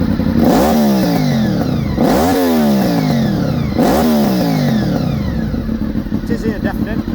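A Honda VFR800FI Gen 5 RC46 motorcycle with 114,000 km fitted with a Black Widow exhaust is revved three times in quick succession. Each blip is loud and close, rising and falling sharply before the engine settles into a rough idle.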